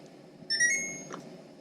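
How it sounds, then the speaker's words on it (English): A single electronic beep from a Samsung refrigerator's water filter reset, a clear high tone lasting about half a second, sounds over a faint background hum, followed by a soft click. "Hear that beep, and that lets you know that you just reset the timer."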